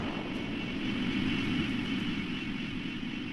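F4 strike aircraft engine under throttle in a video game, a faint, steady jet roar holding evenly throughout, with no talking.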